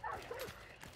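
A dog in the multiplayer western hunting shooter game Hunt: Showdown gives a short yelping whine, close and fairly clear, a single brief burst of barking and whimpering.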